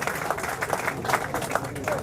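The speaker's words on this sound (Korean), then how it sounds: "다시 한번 큰 박수 부탁드리겠습니다." Lawmakers at a Democratic Party caucus assembly give a burst of applause, a rough crackle of many hands that continues under a speaker's voice for the whole moment.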